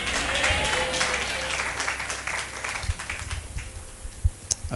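A church congregation at a Hindi-language sermon clapping and applauding, a dense wash of many hands that gradually thins into scattered individual claps.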